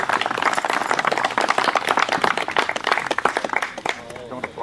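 An audience at an outdoor poetry reading breaks into clapping and applause, a dense, close patter that runs for several seconds and then thins out, with someone talking over it.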